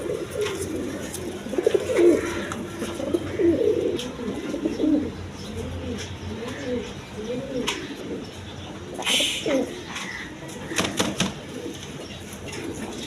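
A pair of big red Jacobin pigeons cooing close by, repeated soft rolling low coos in a steady series, with a few brief rustles and chirps near the end.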